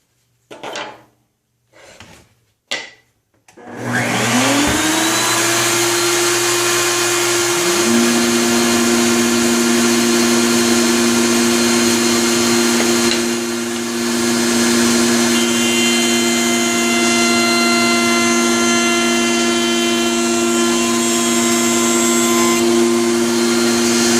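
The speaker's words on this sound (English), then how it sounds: "The next operation is to route a very shallow channel that this tape measure will fit into." A router starts up after a few knocks and spins up to a loud, steady high whine, cutting a shallow channel in a wooden jig for cutting beverage cans; the drone holds unbroken for about twenty seconds.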